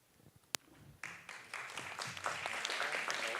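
Audience applause for award winners at a scientific conference, starting with a sharp knock, then scattered claps building into a steady, moderately loud round of clapping from a hall crowd.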